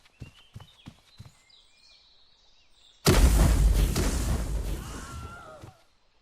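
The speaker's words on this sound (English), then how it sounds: "I gotta shoot a cannon." A cannon fires in a tree-chopping video game with one sudden loud boom that rolls out into a long, fading rumble, after a few light clicks and faint bird calls.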